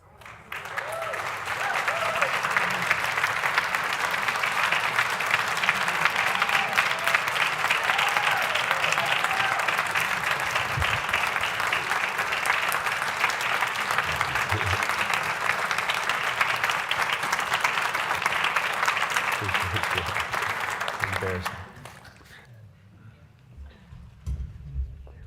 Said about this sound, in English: let's give him another round of applause, eh?